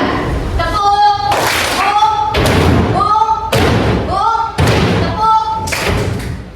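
A class of students taps pens on their desks in a burst of loud thumping knocks that alternates with a woman's sung or chanted voice, several rounds in quick succession.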